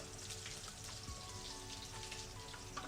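Green chili and Sichuan pepper sizzle in mustard oil in a pan, a faint, steady frying crackle with small pops throughout.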